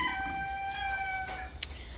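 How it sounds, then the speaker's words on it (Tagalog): Chickens in a yard with a rooster crowing, drawn-out tonal calls over a steady low background rumble, fairly close, with no talking. "Ayun na naman ang mga manok"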